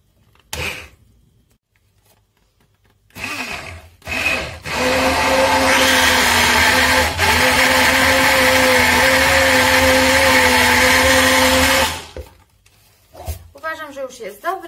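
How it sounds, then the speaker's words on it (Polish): A blender whirs loudly for several seconds while blending a green smoothie in a jar covered with aluminium foil, a steady motor whine that starts abruptly and cuts off, with brief speech and clatter before and after. "jak włączymy nasz blender, żeby nam nie chlapało wszędzie"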